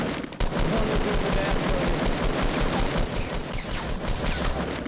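Dense, continuous rapid automatic gunfire during a Fortnite Battle Royale squad fight, loud and close throughout with overlapping shots and no pauses.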